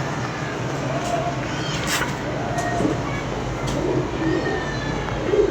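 Flying pigeons coo softly in short, low phrases, set against a dense, steady background hum outdoors. Occasional faint clicks come through.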